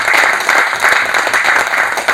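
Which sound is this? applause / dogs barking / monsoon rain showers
applause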